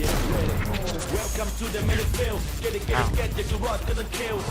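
Gunfire rattles while a Sentinal-SP gun is tested in the video game XSHOT, dense rapid shots and mechanical clatter running continuously and loudly under game sound effects.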